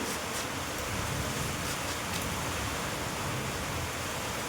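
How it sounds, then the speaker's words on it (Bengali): Heavy rain pours steadily outside a house, a dense, loud, unbroken hiss of drops on surfaces with faint pattering throughout and no talking. "দেখেছি আওয়াজ কীরকম হচ্ছে বৃষ্টি"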